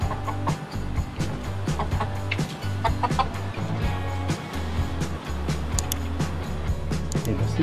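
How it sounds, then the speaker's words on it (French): A hen near a dog clucks repeatedly in short, rhythmic bursts over a low, steady engine-like hum, with occasional sharper sounds mixed in. "Tu la touches pas la poule!"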